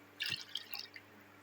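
Water poured into a pressure cooker holding green gram, a few brief splashing, dripping bursts, close and fairly faint, then quieting.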